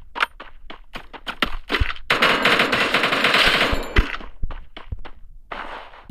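Rapid automatic gunfire from Free Fire Max, with quick bursts of sharp close shots, a sustained dense volley in the middle, and then scattered single cracks and metallic clinks, loud and without any talk.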